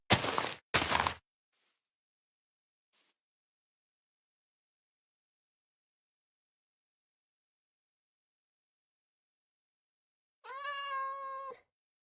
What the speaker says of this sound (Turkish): Kedi gene bizimle.